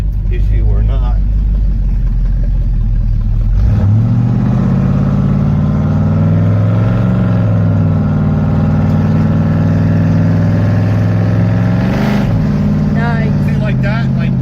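A 1993 Chevy K1500 truck engine revs up loudly under heavy throttle and slips out of gear, a close, sustained roar with shifting pitch that dips briefly near the end.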